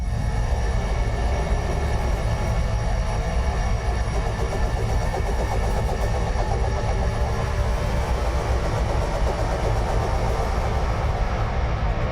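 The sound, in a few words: synthesized drone soundscape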